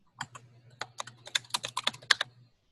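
Typing on a computer keyboard, a quick irregular run of about fifteen keystrokes lasting a couple of seconds, close and clear over a low steady hum.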